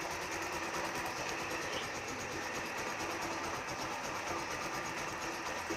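A motorcycle engine idles steadily after a push start, a continuous buzzing hum close to the microphone with no pauses or throttle changes.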